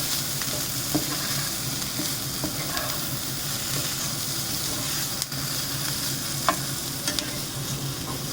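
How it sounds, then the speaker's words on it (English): Poha fries in a pan while turmeric is stirred in, giving a continuous loud sizzle with occasional scraping of the spoon against the pan, close and steady. "turmeric, give it a quick stir."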